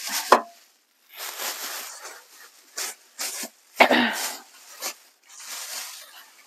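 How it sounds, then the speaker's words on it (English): Rough scraping strokes of food being grated into a bowl with a small grater for mini hamburgers, in short irregular bursts with brief pauses, close and moderately loud. "I just got this cool little grater out where I can, it grates it into the bowl"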